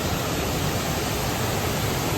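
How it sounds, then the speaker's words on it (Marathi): Kelavali waterfall in Satara rushes in the monsoon with a dense, steady roar of falling water, broadband and unbroken, close enough to fill the whole scene with no voices over it. "एक वॉटरफॉल दिसलाय आम्हाला"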